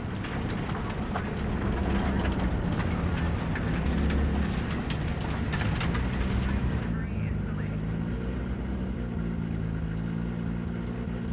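Massive Cyberpunk 2077 train rumbling past, a steady loud low roar with clattering detail that drops off abruptly near the end, leaving a softer lingering hum.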